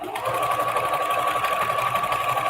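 A sewing machine stitches batting onto quilt blocks, its needle running in a steady fast whirring chatter, close and continuous throughout with no pauses.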